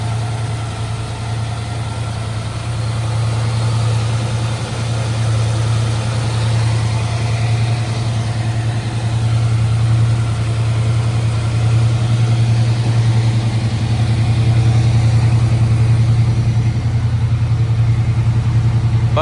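A 1967 Camaro V8 idles after a cold start, a loud, steady low rumble that continues unbroken and close for the full duration.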